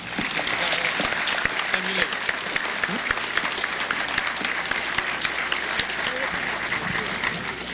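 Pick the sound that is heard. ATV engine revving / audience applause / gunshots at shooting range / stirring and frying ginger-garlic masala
audience applause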